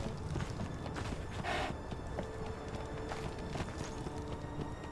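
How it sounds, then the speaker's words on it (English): Horse hooves in the game Conan Exiles clop in a steady rhythm at moderate distance, mixed with faint creaking and mechanical game sounds, with no talking. "Now you can prance around in your fancy horse."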